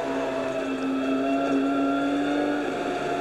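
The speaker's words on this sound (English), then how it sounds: "Now just listen to the engine revs, and that'll tell you how hard they're working" A steady, high-pitched touring car engine drones continuously at sustained high revs during a 1992 race at Winton, loud and unbroken, with no voices over it.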